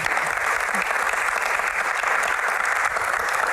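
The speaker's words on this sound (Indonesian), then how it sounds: "Tepuk tangan dulu." An audience claps loudly at an Indonesian Q&A session on Hajj pilgrimage management, producing a thick continuous wash of applause that holds steady from start to finish.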